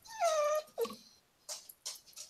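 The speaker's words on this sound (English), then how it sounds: "as a small dog whines in the corner" A small dog whines close by, with a sustained high whimper followed by a shorter yelp and several brief, breathy whimpers that fade in a quiet space.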